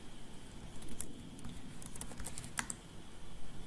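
Quiet typing on a computer keyboard produces scattered soft key clicks with a few sharper taps, all heard alone, close by, over faint background hiss.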